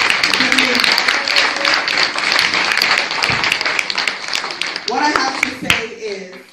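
An audience at a prayer service claps hands together, a dense sustained patter of applause that fades briefly and returns, with a voice speaking over it.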